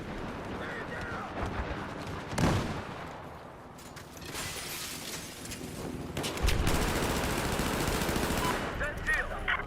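Rapid machine-gun fire in Battlefield 4, with bursts of automatic shots and a long sustained volley near the end over a noisy battlefield backdrop.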